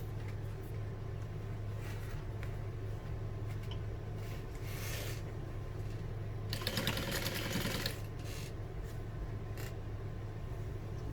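Sewing machine stitching close to the edge of a vintage barrel bag, a steady low motor hum with a brief louder burst of rapid stitching near the end.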